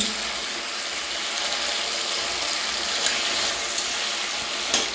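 A fish head frying in a pan of oil for a bottle gourd curry, a steady close sizzle and crackle with a few small sharp pops and utensil taps near the end.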